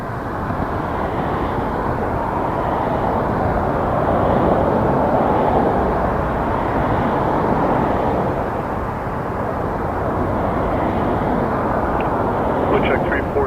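A jet aircraft roars steadily at Toronto Pearson Airport, a broad continuous engine wash that swells slightly midway and holds loud and near throughout.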